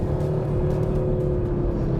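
A 2022 Audi RS3 driving fast on a high-speed oval track, heard as a steady, loud engine drone with road and wind roar. No one speaks.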